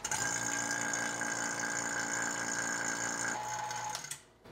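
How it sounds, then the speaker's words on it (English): A vacuum pump runs on the A/C system of a 1980-1996 Ford Bronco during an R12 to R134 conversion, a steady buzzing mechanical drone with a fixed pitch that drops in tone then cuts off at the end. "turn on your vacuum pump for another 45 to 60 minutes"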